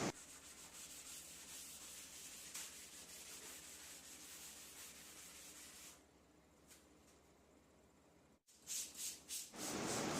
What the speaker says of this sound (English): we're going to use a very fine sanding block to get rid of the glossy finish